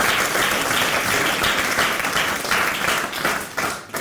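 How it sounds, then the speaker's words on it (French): A crowd applauds warmly at a celebration, dense continuous clapping held at a steady loud level before tapering slightly at the end. "nous pouvons l'applaudir très fort"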